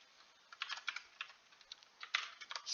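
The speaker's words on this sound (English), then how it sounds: "I'm going to start off by typing scanner in equals new" Quick, uneven tapping of keys on a computer keyboard while code is typed, a light steady clatter with a few louder strokes, close and alone.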